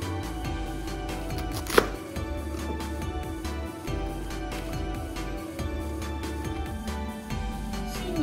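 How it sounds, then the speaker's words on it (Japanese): Knife shredding cabbage into thin strips for Hiroshima-style okonomiyaki, a dense run of rapid chopping strokes on a cutting board that continues steadily throughout, close and fairly loud. "まずキャベツを千切りに切っていきます"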